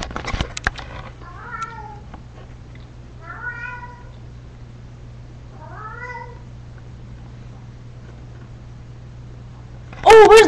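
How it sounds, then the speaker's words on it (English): A cat meows three times in a row while acting wildly excited indoors, each call clear and moderately close over a steady low hum, followed by a brief loud burst of noise at the end. "My cat is spazzing out."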